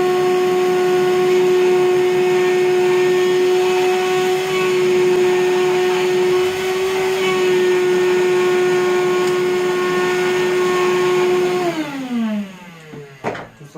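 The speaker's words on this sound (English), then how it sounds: "I like to use my portable shop vac here from DeWalt" A DeWalt portable shop vacuum runs with a loud, steady whining roar, then spins down near the end and falls silent, ending with a couple of small clunks.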